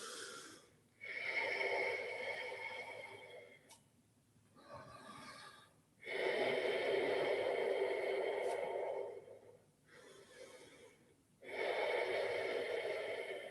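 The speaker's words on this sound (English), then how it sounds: "3 breaths here" Deep yoga breaths taken during a vinyasa flow, with loud, sustained inhales and exhales up close alternating in long, even cycles, separated by short quiet pauses.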